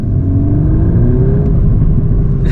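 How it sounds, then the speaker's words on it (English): A Mk8 Volkswagen Golf R with an Akrapovic exhaust revs inside a tunnel on a wet UK road, making a loud, steady, close engine drone and rumble that builds smoothly and echoes off the walls, with no talking. "First bit of a tunnel for the Akrapovic exhaust."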